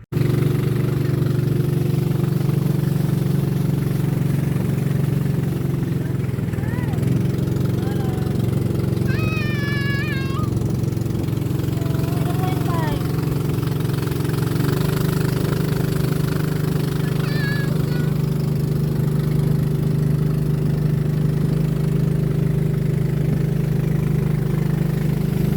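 A motorboat engine drones steadily and loud throughout a boat ride at Wawa Dam, a close low hum with faint voices and brief shouts over it.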